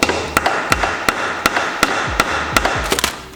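A hammer striking parts of a cheap used drift car in close, loud, evenly spaced metallic whacks, about a dozen in three seconds, over a steady background hiss.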